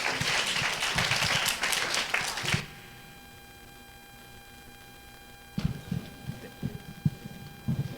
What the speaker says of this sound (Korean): 다시 한번 먼 길을 찾아오신 우리 교수님께 박수 드리도록 하겠습니다